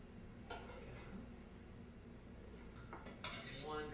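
Cut-up cream cheese being put into a saucepan for sweet potato custard, a few light clinks and scrapes of utensil against the pan over quiet kitchen background, with a sharper clatter near the end.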